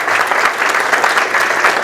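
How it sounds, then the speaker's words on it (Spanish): An audience at a conference on the United States' role in the Mexican Revolution gives the students a loud round of applause that is close and sustained, a dense wash of clapping from start to end. "Un fuerte aplauso que el día de hoy nos acompañan."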